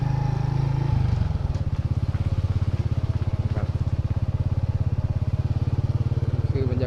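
A motorcycle engine revs on a Thai village side street next to a temple, starting with a loud throttle burst and then settling into a steady, close, pulsing engine drone that runs the whole way through.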